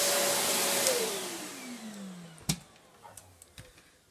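A Panasonic MC-CG902 canister vacuum cleaner whines as its motor spins down with a falling pitch, followed by a few sharp clicks and knocks from handling the machine.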